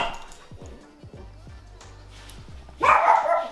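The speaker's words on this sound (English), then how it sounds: "It's barking, it's calling for me." A dog barks from another room of a house, several short sharp barks spaced through the first part, muffled and moderately distant, followed by a louder burst of broadband noise near the end.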